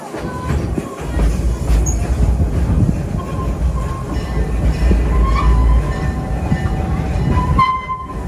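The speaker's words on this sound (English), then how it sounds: "Our train journey begins." Serengeti Express train at Busch Gardens Tampa Bay rolling along its track, a steady low rumble with rail clatter and occasional metallic squeals, close and continuous throughout.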